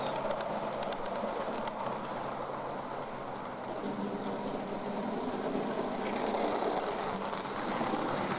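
A model train runs steadily along its track on a model railway layout, a continuous rolling rumble with faint rhythmic clicking, fairly close and constant throughout.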